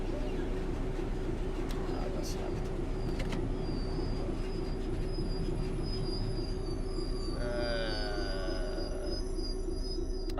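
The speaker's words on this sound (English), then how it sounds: "Oh, there is a train in front of us." A train passes in front in the Train Sim World 3 game, heard as a steady, loud low rumble with a high whine that rises near the end, plus brief faint clicks early on.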